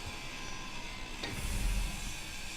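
A power grinder in the Space Engineers video game grinds blocks off a structure, giving a steady whirring hiss with a low rumble that swells midway. There is a single sharp click just before the swell, and no talk.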